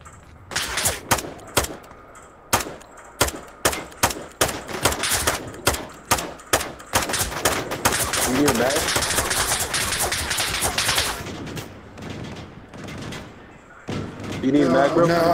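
Rapid pistol and rifle gunfire in Onward VR, loud bursts of sharp close shots in uneven rhythm, then a dense stretch of continuous fire, with players talking over it.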